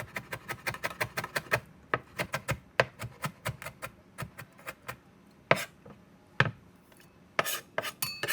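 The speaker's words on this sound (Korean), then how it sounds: "고추 안에 씨를 제거하고 잘게 다져주세요." A knife minces seeded Cheongyang chili peppers on a cutting board in rapid, sharp taps, fast rhythmic runs broken by short pauses and a few louder chops, close and clear with no voices.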